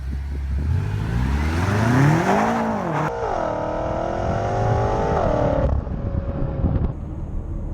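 A BMW M5 F10 with a 4.4-litre twin-turbo V8 and paddle-shift gearbox pulls away, its engine note rising steadily through the revs, changing gear and climbing again before easing off, loud and close with no voices.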